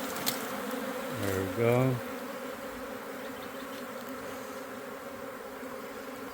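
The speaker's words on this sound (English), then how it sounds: "They should all start flapping their wings, getting the scent out to all the other sisters, letting them know that the queen is in here." A honeybee swarm moving into a new hive gives a steady low buzz throughout, with a few louder, nearer buzzes early on and a short spoken remark at the start.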